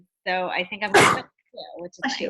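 One sharp, breathy sneeze bursts out in the middle of a conversation during a group call, with people talking just before and after it.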